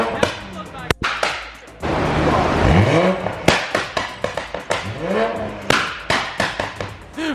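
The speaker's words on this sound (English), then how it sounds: "The pops are so freaking loud, it's ridiculous." A big-turbo 2020 Toyota Supra fires off sharp, loud exhaust pops and bangs in rapid irregular bursts between revs, with voices talking nearby.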